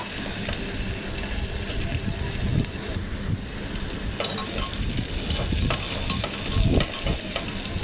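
Sliced onions, bay leaves, whole spices and green chilies fry loudly in mustard oil, a dense close sizzle with scraping stirs and bursts of crackle as they are moved around the pan.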